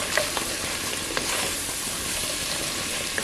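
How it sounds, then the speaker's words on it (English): Crushed garlic cloves frying in a pot, a steady dense sizzle with faint occasional stirring taps, fairly close. "Crush in your garlic cloves and then cook that for about a minute"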